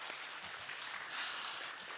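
Steady applause from a church congregation clapping together, filling the room evenly for the whole stretch.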